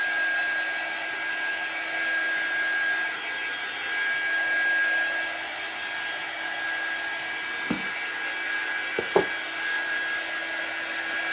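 A blow dryer runs steadily over wet craft paint, a constant loud airy whoosh lasting about eleven seconds, with a couple of brief knocks near the end and no voices.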